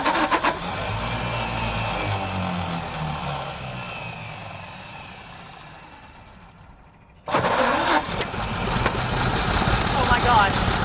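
A 1953 White WC truck engine runs after its first start in over 30 years, a loud rough idle that sags and nearly dies before surging back strongly, with people speaking nearby.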